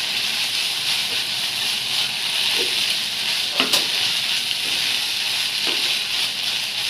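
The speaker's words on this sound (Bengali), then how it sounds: "আমি এটাকে এখন একদম নেড়ে নেড়ে শুকিয়ে নেব।" Chicken wonton filling being stirred and dried out in a hot pan, a steady broad frying sizzle with a few faint scraping stir strokes, close and continuous, no talking.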